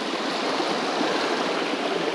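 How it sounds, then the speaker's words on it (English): Water streams steadily into a small waterhole in the New Zealand bush, a continuous close rushing and gurgling that fills the whole stretch at an even level, with no voices. "Nice little waterhole here,"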